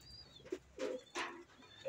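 Soft, low pigeon coos repeat several times close by in a pigeon loft, with a faint high chirp and quiet background noise between calls.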